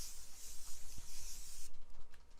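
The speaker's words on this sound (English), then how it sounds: "We're going to set with spray." Makeup setting spray misted from a pump bottle, a steady bright hiss lasting about a second and a half close by, then a few faint rubbing sounds.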